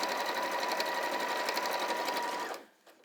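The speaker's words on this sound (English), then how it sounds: "just sew within the seam allowance, so close to the edge all the way across" A sewing machine runs a long continuous stitch close to the edge of joined fabric pieces, steady whirring motor noise that stops abruptly near the end, followed by a brief small mechanical click.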